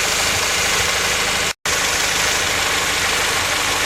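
A Honda Prelude engine idles steadily at close range with an even, throbbing hum. The sound cuts out for a moment partway through, then resumes unchanged.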